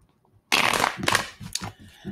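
Tarot cards shuffled by hand in a dense, riffling burst that starts abruptly and continues in uneven papery flurries, close and fairly loud, with a faint voice barely present underneath.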